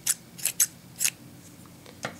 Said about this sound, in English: so we cut the yarn again